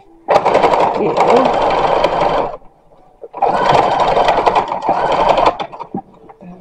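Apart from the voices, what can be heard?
sewing machine stitching a 1916 embroidered linen dress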